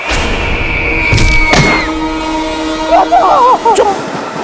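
A Churchgate local train approaching on a Mumbai line, its loud horn blaring in long tones with a rumbling, rattling approach close by, voices faintly mixed in.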